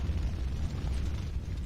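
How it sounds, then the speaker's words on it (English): A massive explosion in a Resident Evil 3 video game cutscene, a dense low rumbling roar that sustains loudly across the whole moment without pause. "big explosion in the cutscene up here, that'll probably blow out your headphones"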